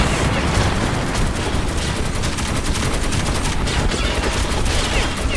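Dense, continuous turret gunfire rattles nonstop at full loudness in a video game turret section, a rapid close barrage with no pauses.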